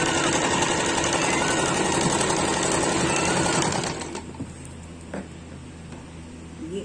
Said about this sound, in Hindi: यहां मिला के इसको भी ऐसे ही सिल दूंगी यहां पे।